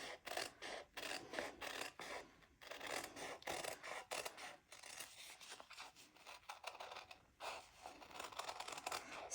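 Scissors snip steadily through fabric while a thread-painted pumpkin shape is cut out, making close, quiet, rhythmic crunching cuts with brief pauses between strokes.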